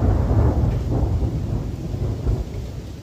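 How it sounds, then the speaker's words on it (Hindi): Rolling thunder rumbles low and steady through rain and strong wind in a hilly mountain village, a continuous loud storm wash with no voices. "बारिश के साथ साथ आसमान में बहुत तेज़ वाली गर्जना भी हो रही है"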